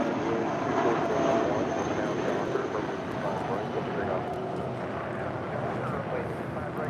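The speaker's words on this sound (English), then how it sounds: "This is Spirit Airlines Flight 3103 departing to Atlanta, Georgia on an A319." A Spirit Airlines A319 departs LAX for Atlanta, its jet engines giving a steady, moderately distant roar beneath a talking voice.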